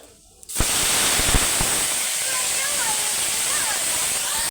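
Panch phoron, a dried red chili and ginger paste hit hot oil after a brief quiet start. A loud, dense sizzle then holds steady to the end, with a faint voice in the background.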